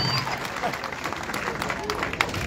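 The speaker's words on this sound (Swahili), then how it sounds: "Wapi makofi?" Applause from a church or public gathering audience, a dense brief spell of clapping and crowd noise mixed with voices talking and calling out over it.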